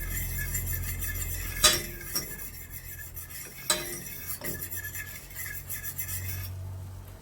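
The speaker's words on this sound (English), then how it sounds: "I'm gonna add the milk and whisk it" A whisk scrapes and stirs through flour, butter and milk in a pot for a mac and cheese sauce, with steady rubbing strokes, a few sharp metallic clinks against the pan, and a low background hum.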